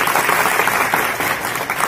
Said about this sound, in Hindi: जरा तालियां होनी चाहिए।